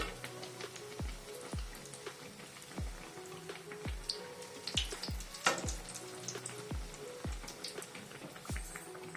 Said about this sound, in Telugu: మీడియంలో పెట్టుకొని బ్రౌన్ కలర్ వచ్చే వరకు ఇలా ఫ్రై చేసుకోవాలండి